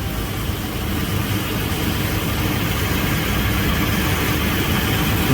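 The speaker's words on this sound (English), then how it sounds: "Okay, the truck is running" A third-generation Toyota Tacoma pickup truck engine idles steadily up close, a continuous low rumbling hum with even vibration throughout and no talking.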